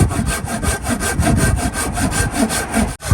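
A hand saw cuts through a wooden fence post with steady, rhythmic back-and-forth strokes, loud and close, continuing without pause except a brief break near the end.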